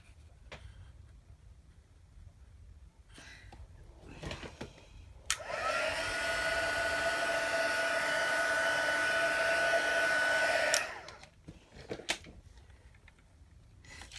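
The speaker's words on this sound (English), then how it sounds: "I think my heat tool is overheating." A heat tool blows hot air onto card for about five seconds, a steady loud whooshing roar that starts and cuts off abruptly between quiet handling noises.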